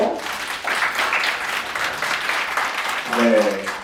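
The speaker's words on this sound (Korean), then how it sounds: "성명 멘토님께 다시 한번 박수 부탁드리고요" Applause for a mentor at a student concert-style camp session, moderate clapping from the audience filling the span, with a voice speaking over it near the end.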